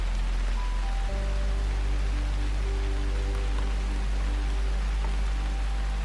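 Rain falls steadily on a woodland canopy, a dense even hiss with no breaks. Low tonal hums sit beneath it.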